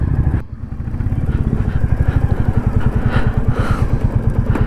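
A motorcycle engine idles loudly and close by on a congested Kolkata-area road, a fast, even pulsing chug after a brief dip at the start, ending abruptly.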